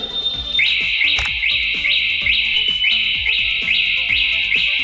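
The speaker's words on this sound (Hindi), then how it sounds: "ये एंटी थेफ्ट अलार्म का ऑप्शन है" A Hero Electric Photon HX electric scooter's anti-theft alarm wails loudly in repeating rising sweeps, cycling rapidly and continuously close by.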